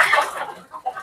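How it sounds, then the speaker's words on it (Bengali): Native chickens in coops on a farm, a short burst of close clucking and fowl chatter that trails off into softer calls. "সবগুলো খোপে মুরগি"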